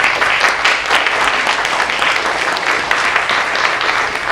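Audience applause after a lecture reading of a royal charter at a local historical association, a steady dense wash of clapping held at an even level throughout, with no talking over it.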